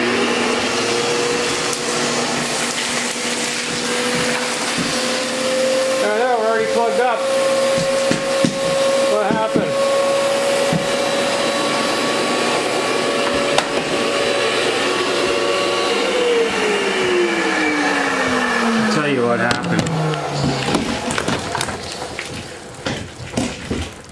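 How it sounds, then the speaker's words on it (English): A Festool vacuum cleaner hose running with a steady loud whine, its pitch shifting as debris jams and clatters through the narrow one-inch hole, close and continuous. "We'll do a bit of vacuuming and I'll help you understand why it's so bad."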